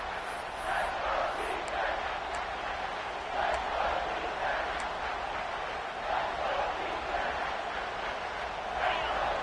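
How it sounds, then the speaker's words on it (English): A stadium crowd in the College Football 26 video game roars steadily as the home fans try to lift their defense for a red zone stop, a dense, sustained wall of cheering with slight swells throughout. "This crowd is trying to inspire this defense to make a big red zone stop."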